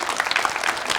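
An audience at a lecture in Yeongju claps, a dense, loud burst of many hands applauding together for about a second, close and continuous.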